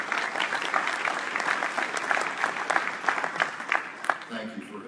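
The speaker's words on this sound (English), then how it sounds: "Can we get a round of applause for all the FRS donors" Audience applause for FRS donors at a fall update event in Indianapolis: steady, dense clapping from a sizable crowd, sustained throughout and fairly close, with a few louder claps near the end.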